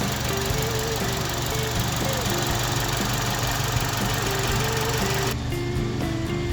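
Steady idle of a 2021 Mini Cooper S convertible JCW with a 2.0-litre engine, a close, even mechanical drone with a low rhythmic rumble, continuous and unbroken, with no talking.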